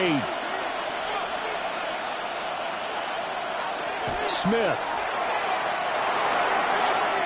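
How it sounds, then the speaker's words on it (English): Dense, steady roar of a stadium crowd at an AFC quarterfinal football game between the Raiders and Ravens, a constant wash of noise throughout with a commentator talking over it. "this crowd making it hard to hear"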